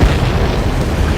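A UAV blowing apart after being shot down in the combat flight game Ace Combat 7, a loud, close, deep booming explosion that rumbles on as a dense, sustained roar.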